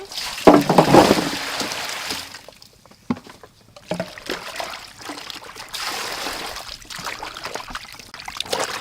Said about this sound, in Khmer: នេះឥឡូវយើងចាប់ដើមលាងបន្លែណា